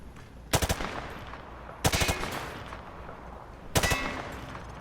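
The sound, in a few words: gunfire from the hip in Call of Duty: Modern Warfare 2 video game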